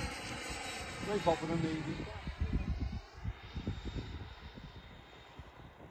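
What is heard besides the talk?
HSD F-86 Sabre model jet flying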